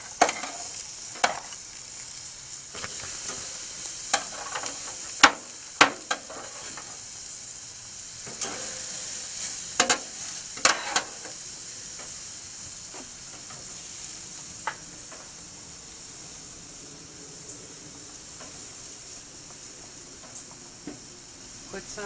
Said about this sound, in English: My grill is hot. So I'm going to put these poached ribs in.